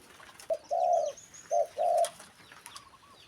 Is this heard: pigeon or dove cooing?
yes